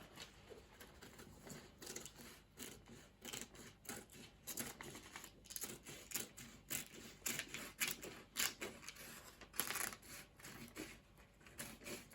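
Scissors cut fabric for a corset blouse yoke, a quiet series of close, irregular snipping and crunching strokes over a soft background hiss.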